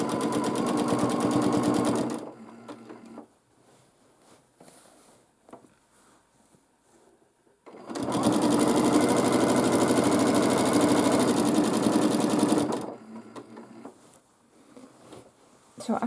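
A domestic sewing machine, run by foot pedal, free-motion quilts a large quilt in two long bursts of rapid, buzzing stitching. Between them is a quieter pause with light handling noise.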